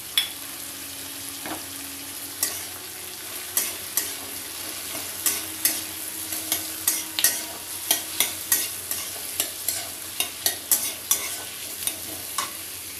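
Slit green chillies frying in a pan for chilli chicken, a steady sizzle with repeated sharp spatula scrapes and taps growing more frequent.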